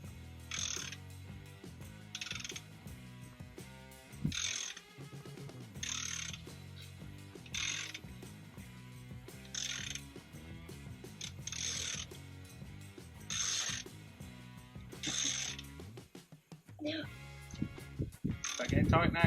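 A hand ratchet tightens a nut on a 36V electric kids' dirt bike with repeated bursts of rapid clicking and pauses in between. People talk at times over the work.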